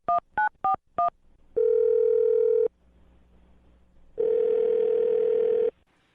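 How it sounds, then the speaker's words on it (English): Four quick touch-tone beeps of a phone being dialed, then two long ringback tones with a pause between them, clear and close. "I'm going to dial his phone number."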